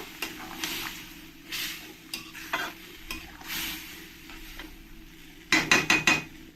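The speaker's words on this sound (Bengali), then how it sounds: "এবার আমি সবজিটা ঢেলে দেব সবজিটা ঢেলে ভালো করে একবার নেড়ে দেবো" Mixed vegetables land in a pan of fried ginger and get stirred, giving scraping utensil strokes over a soft sizzle, with a burst of louder clattering scrapes near the end and no voices.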